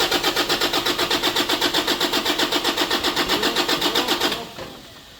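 A Toyota Innova D-4D diesel engine cranks with a fast, even, loud chugging rhythm for about four seconds, then catches and drops to a quieter running sound.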